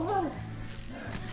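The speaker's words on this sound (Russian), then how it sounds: "Здесь, наверное, собаки." Dogs on the grounds of a Mexican jungle eco-hotel give a brief whining yelp near the start, then fainter animal sounds, all under a man's speech.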